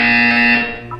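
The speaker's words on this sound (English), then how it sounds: "You will hear a buzzer." A loud, sustained electronic buzzer from Portal 2 sounds in one steady harmonic tone for about a second, then cuts off into brief softer blips.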